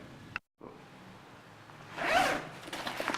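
A zipper on a black Teck Pro backpack is pulled open near the end, a quick rasping zip after a brief silence and some faint handling noise.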